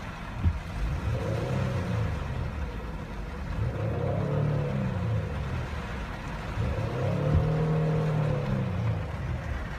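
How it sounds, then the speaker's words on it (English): A Ford Flex 3.5 liter V6 revs several times in the rain, each rise and fall a muffled growl over a steady hiss of falling water, with no talking. "Let's see if you can hear the engine here when I rev it."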